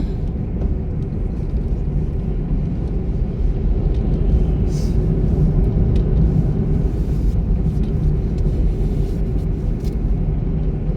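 A car engine running steadily while the driver shifts into third gear, a loud continuous low rumble and road noise from inside the vehicle with no clear change, and no talking.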